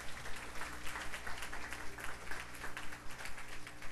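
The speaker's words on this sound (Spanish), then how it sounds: "Un aplauso fuerte al Ministerio Adonai." A church congregation applauds during a worship service, giving a loud ovation to a praise ministry. The clapping is dense and sustained, rising and falling in waves over a low steady hum.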